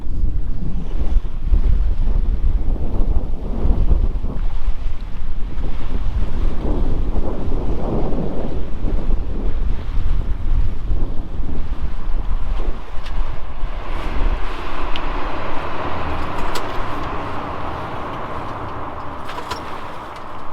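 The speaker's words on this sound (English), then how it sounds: "The wind is always a little weird on such a low bridge." Strong wind buffets the microphone aboard a single-handed sailboat passing under a low bridge off Fyn, Denmark, with water and boat noise throughout and a steady rumble that eases slightly toward the end; no one speaks.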